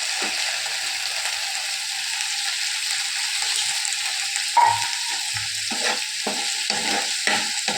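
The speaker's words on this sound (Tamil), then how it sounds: "ஈரலை ரொம்ப நேரம் வதக்காதீங்க" Liver sautéing in a pan, a continuous close hiss of sizzling oil with scraping and clinking from stirring that grows busier toward the end, no voices.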